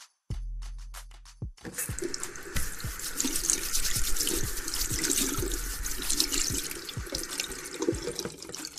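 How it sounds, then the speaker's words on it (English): A sink tap opens after a few short sounds, then water runs steadily and splashes close by as hands are washed, with occasional drips and clatter. "Did you remember to wash your hands?"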